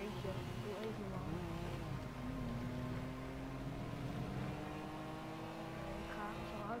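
A car engine in Grand Theft Auto V revs and drones at high speed, its pitch rising and falling, with a voice talking over it throughout.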